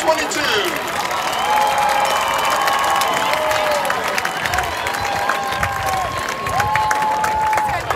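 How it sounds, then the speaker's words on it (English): A crowd in the stands at a Friday night high school football game applauds and cheers steadily, with scattered shouts and whistles over a busy open-air din. "let's give a big round of applause for the entire court"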